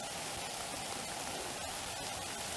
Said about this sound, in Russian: стоило мне только-только вспомнить про дождь, как он не замедлил тут же начаться